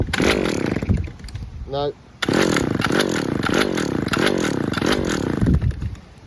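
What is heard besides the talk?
Stihl petrol trimmer engine starting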